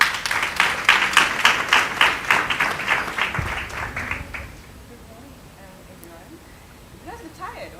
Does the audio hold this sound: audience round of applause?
yes